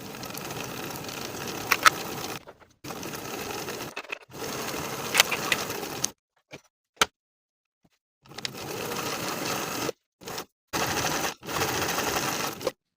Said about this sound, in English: We're going to sew from the dot across that curve and to the top of the back piece with a 5/8 inch seam allowance